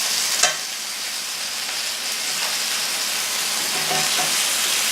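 Chicken browns in a small skillet on a compact burner, giving a steady, dense sizzle with a few brief stirring scrapes partway through. No one speaks.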